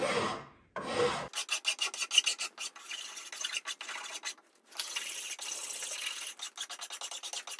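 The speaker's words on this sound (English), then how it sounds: "I'm just going to start with the file, because the file tends to keep things a bit more true" Hand file rasping across a wooden bass guitar neck in a luthier's workshop, rhythmic back-and-forth strokes in quick succession, close and crisp, with brief pauses between runs and no talking.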